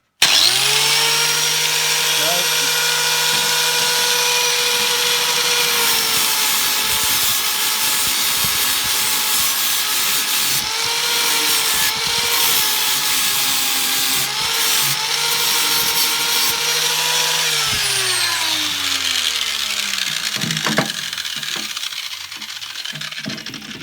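Cordless 40-volt Aldi Ferrex angle grinder, 4.5-inch, fitted with a new flap disc, whining loudly and steadily while grinding metal close by for about twenty seconds before spinning down.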